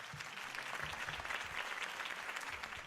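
A crowd applauds steadily in the video game Batman: The Telltale Series, a dense patter of clapping heard at a moderate distance for a few seconds.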